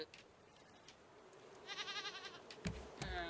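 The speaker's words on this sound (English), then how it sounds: "goats" Goats in an animal pen in a building game give a few wavering, nasal bleats at low to moderate level, one drawn-out call in the middle and another at the end, over faint ambient hum.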